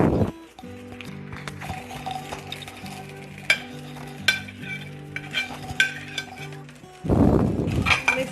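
Vegetables being stir-fried for fried rice in a non-stick pan, with steady sizzling and frequent utensil scrapes and clinks, close and fairly loud over soft background music.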